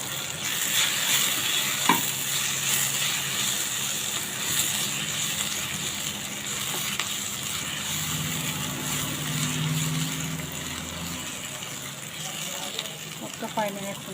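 Drumstick leaves frying with ground red chili in a pan for a munagaku thalimpu make a steady, fairly soft sizzle. Occasional stirring scrapes and clicks are heard, with some quiet talk in the background.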